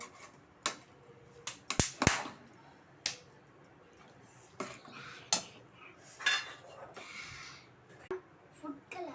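Vegetable biryani with mint being stirred in a pot, with scattered sharp scrapes and clinks of a spoon against the metal pot, some loud and others soft, spread irregularly through the stir.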